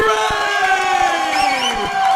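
Crowd at a boxing event in Allentown roaring and whooping as boxer Dias Ray is introduced in the ring, a loud continuous cheer with rising shouts throughout.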